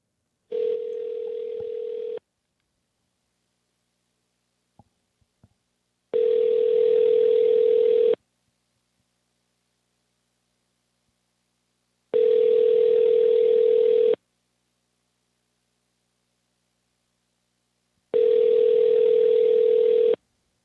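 Ringback tone on a telephone call to a number in Atlanta during a live call-in show, four loud steady two-second tone bursts repeating every six seconds with silence between, no voices.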